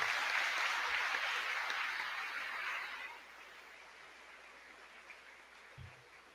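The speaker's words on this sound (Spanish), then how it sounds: "Expresemos a San José y por medio de él a Dios un fuerte aplauso." A church congregation applauds during a feast for Saint Joseph, a dense, sustained clapping that fills the room, then gradually fades and thins out toward the end.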